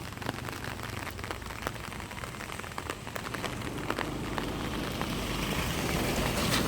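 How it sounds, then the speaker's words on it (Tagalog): Rain falls steadily with a soft, constant hiss and scattered close drips tapping on surfaces, growing slightly heavier toward the end. "Umuulan kasi."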